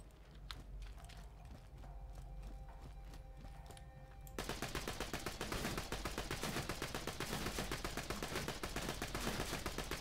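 Rapid automatic gunfire from Borderlands 2, a steady dense burst of shots that starts partway through after quieter game ambience and continues loudly to the end.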